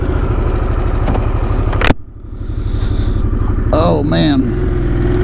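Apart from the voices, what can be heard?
2021 Harley-Davidson Sportster S motorcycle engine riding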